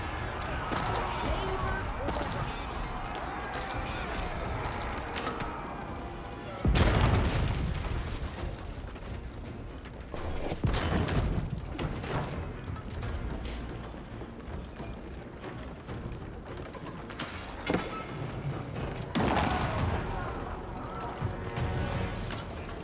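Bombard cannons fire in Age of Empires 4, heard as deep booms that hit hardest near 7, 11 and 18 seconds over a steady battle din of clashing and distant impacts. Someone commentates over much of the action.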